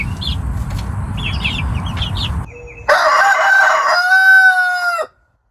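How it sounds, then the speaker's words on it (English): Chickens kept on fresh grass in a hoop coop chicken tractor, close and loud, with low clucking and chirps, then a rooster's long crow that ends abruptly. "Nothing like keeping chickens on fresh grass."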